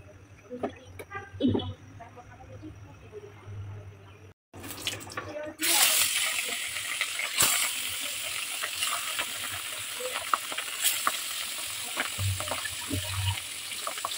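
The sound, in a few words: fish frying in pan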